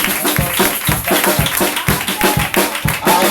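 A church congregation claps in quick, steady rhythm, sharp close hand claps repeating several times per second over a murmur of voices.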